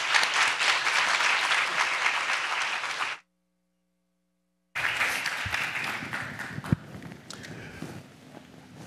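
An audience applauds loudly in a conference hall to welcome a keynote speaker, a dense burst of clapping that cuts off abruptly, then resumes with scattered claps and shuffling before fading.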